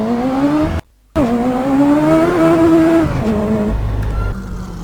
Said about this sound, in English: Car is driven.